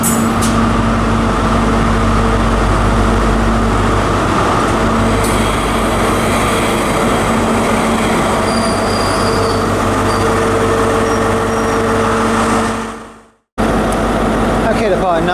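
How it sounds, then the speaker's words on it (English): ScotRail HST power car 43175 arriving at Perth station: a loud, steady diesel rumble and rolling wheel noise close by, with a sustained tonal whine and some wheel squeal, running continuously before a brief dropout near the end. "approaching in now is the 1341 ScotRail service from Glasgow Queen Street to Aberdeen. 43175."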